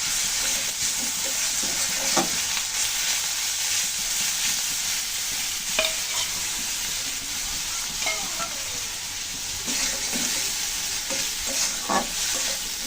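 Crushed garlic and onion fry in hot oil for a home-style fish curry with bananas, a steady close sizzle marked by occasional stirring scrapes and pops, with no talking.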